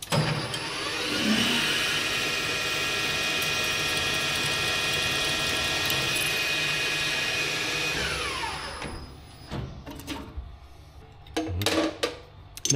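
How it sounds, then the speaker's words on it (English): A steady high-pitched machine whine of a 6.5 drill bit boring a hole in metal on a lathe runs for about nine seconds, then cuts off, leaving scattered clinks and handling noises. "Bore a hole."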